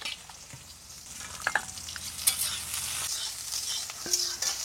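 Soya chunks frying in oil in a kadai, a steady sizzle with occasional stirring clinks and scrapes, close and alone without talk.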